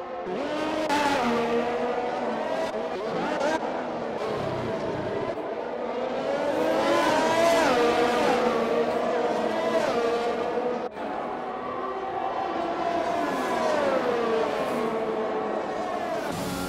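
Race cars roar continuously around a circuit in an amateur racing division round in Russia, with an Alfa Romeo among the field; engines rise and fall in pitch as cars pass, with occasional tire squeal, loud and sustained.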